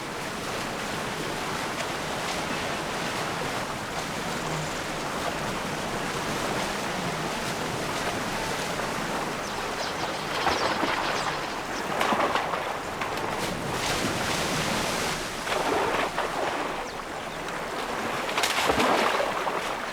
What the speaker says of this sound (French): Le courant les pousse vers l'aval, là où les turbulences sont plus fortes encore.